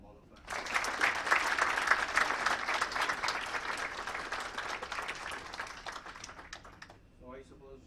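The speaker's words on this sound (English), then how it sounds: "the entire IREC team, the organizing team, led by our friend over here, deserves an applause from all of us." An audience at an HR conclave applauds the organizing team, dense clapping starting abruptly and continuing for about six seconds before tapering off, with a voice briefly heard as it dies away.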